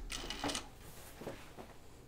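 A sewing machine stitches the shoulder seams of a Hawthorne dress in a short, quiet run, with a brief burst of whirring stitches followed by a couple of softer mechanical pulses.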